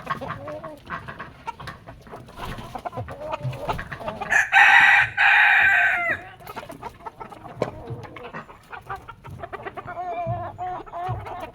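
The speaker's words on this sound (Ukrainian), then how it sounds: "Півники шовкові кому треба." Silkie roosters crow loudly nearby, several calls in a row, with hens clucking around them and a few faint voices in the background, on a farm.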